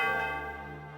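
A single large bell is struck at the Celestial Tower in Pokémon Black, its loud, clear tone ringing out and slowly decaying over about a second.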